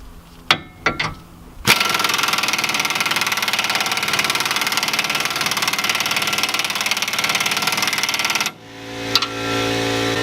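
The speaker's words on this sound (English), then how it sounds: "Might want to turn on the air compressor." An air compressor in a workshop, used for an impact tool during a Ford F250 bumper job, kicks on after a few knocks and runs loudly with a steady rattling drone for about seven seconds before cutting off abruptly.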